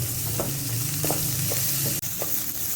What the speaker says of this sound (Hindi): इसको भी तकरीबन 1 मिनट के लिए अच्छे से फ्राई कर लेंगे।